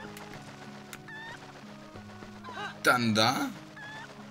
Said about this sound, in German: Ich habe das Huhn, glaube ich, verärgert.